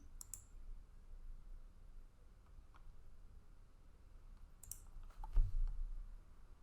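A computer keyboard gives a few faint, sparse clicks in a quiet room, with short isolated taps spread out and a small cluster near the end.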